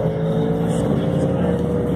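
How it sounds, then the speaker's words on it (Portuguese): A Ford Mustang Mark 1 at a car parade gives a steady, close engine rumble, with a crowd murmuring and voices talking underneath throughout. "Olha esse Mustang, que lindo. Que lindo, Mark 1."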